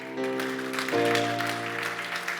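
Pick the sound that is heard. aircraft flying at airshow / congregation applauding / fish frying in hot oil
congregation applauding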